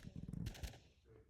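Rapid burst gunfire in the Roblox Rivals game, a quick string of faint shots followed by a brief thud, heard quietly with a voice nearby.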